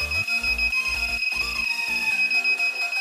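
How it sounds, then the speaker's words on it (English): A robot's electronic proximity buzzer sounds in rapid, repeated beeps alongside a steady high whine, close and fairly loud, with the pulses shifting in pitch and pattern as an obstacle comes nearer. "when the person comes more close to the robot, the buzzer sound will change"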